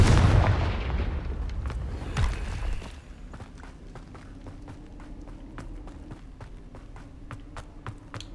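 A Confringo spell blast in Hogwarts Legacy lands with a heavy, rumbling boom that fades after a few seconds, followed by a sparse series of sharp crackling pops over a low hum.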